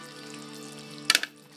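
A banana cheesecake mixture simmers and bubbles in a pan under a steady soft hiss, with a brief cluster of scraping stirring clicks near the end.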